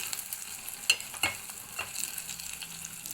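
Tamarind stirred into frying onions for an onion egg curry: a soft, low sizzle broken by a few sharp spoon scrapes and clicks against the pan.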